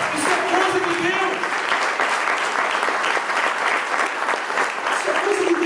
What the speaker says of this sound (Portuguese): dê um aplauso a esse Deus